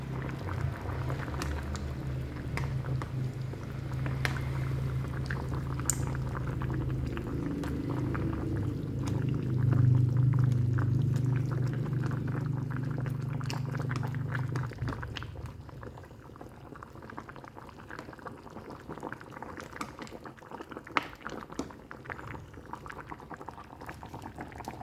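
Coconut milk simmering in a cooking pot for lunch, a steady close bubbling and hiss that runs for most of the stretch before easing slightly toward the end, with faint scattered clicks and no talking.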